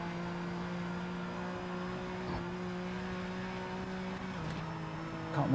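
Race car engine heard from inside the cockpit in Project Motor Racing, a steady, even droning hum held at constant pitch, with a brief shift near the end and a small rise at the very close.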